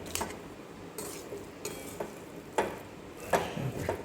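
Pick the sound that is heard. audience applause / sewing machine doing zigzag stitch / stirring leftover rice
stirring leftover rice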